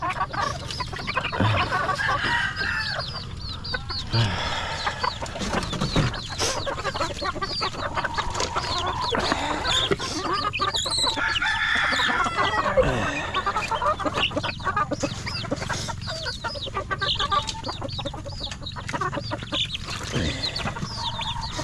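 Chickens cluck steadily throughout with a rooster crowing now and then, a busy, continuous farmyard chorus close by.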